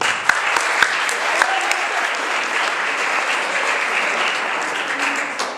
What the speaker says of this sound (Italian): volevo fare un applauso a questi ragazzi